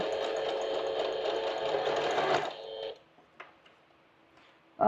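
A sewing machine stitching fabric runs in a fast, steady whir for about two and a half seconds, then stops, followed by a few faint clicks and a short burst as it starts again.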